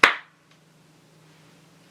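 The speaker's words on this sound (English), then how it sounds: "Okay, let's do the clap thing." A single sharp hand clap right at the start marks the sync point for a podcast recording, followed by near silence with a faint low hum.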